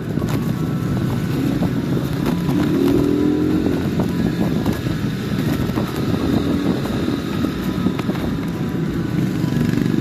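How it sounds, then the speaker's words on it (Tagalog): Motorcycle ride with a steady engine drone blended with heavy wind rush across the microphone, continuous and fairly loud for the whole stretch, with no talking. "Sakay na tayo sa ating motor."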